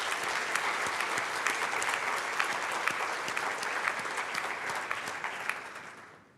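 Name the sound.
audience applause at forum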